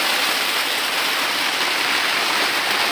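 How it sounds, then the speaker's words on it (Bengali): Steady rain falling outside, a dense, even hiss of drops that stays loud and unbroken throughout, with no voices over it. "বৃষ্টির আওয়াজ নিশ্চয়ই তোমরা পাচ্ছ"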